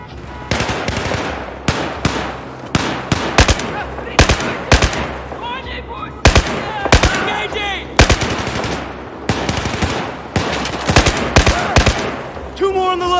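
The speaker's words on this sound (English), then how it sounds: "I'm firing!" Repeated bursts of automatic rifle fire in Battlefield 4 combat, sharp loud volleys in irregular clusters with short gaps, layered over battlefield ambience and distant shots.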